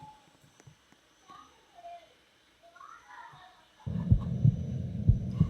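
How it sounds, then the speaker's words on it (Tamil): Heartbeat sound effect in the Roblox game starts partway through, a loud, low, rhythmic thumping that follows quieter scattered game noises and faint murmurs. "இன்னமும் ஹார்ட் பீட் சவுண்ட் கேட்குது."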